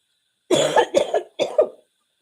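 A person coughs three times in quick succession, each cough loud and close with a breathy rasp, followed by silence.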